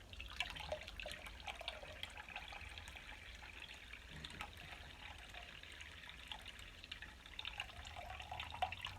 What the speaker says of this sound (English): this right here is the straining process